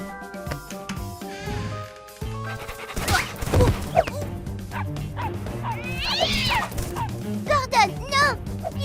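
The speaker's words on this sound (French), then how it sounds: "Il faut arrêter ce chien!" A dog barks in short yaps amid lively music, with a cat meowing and people speaking over the commotion.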